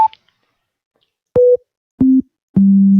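Four plain pure tones sound one after another, each short and clean, stepping lower in pitch with silent gaps between.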